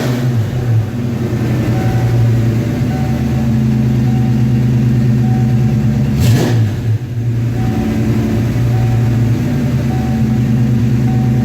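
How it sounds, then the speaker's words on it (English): A Saleen 88-556 car engine, still cold after starting, idles with a steady low burble, then revs once sharply and drops back to a smooth idle, close and loud. "Give her a quick rev so you can hear it."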